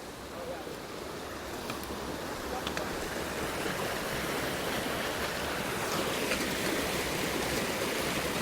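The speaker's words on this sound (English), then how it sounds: "And we're at the river." A river in the Moose Mountain backcountry rushes steadily nearby, a continuous broadband wash of flowing water with faint wind, constant and fairly loud from start to finish with no talking.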